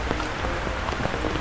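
Rain falls steadily at Legian Beach in Bali, a dense, even patter of drops on surfaces with no voices, holding a constant moderate level throughout.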